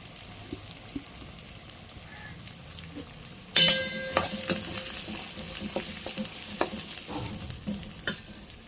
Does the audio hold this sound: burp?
no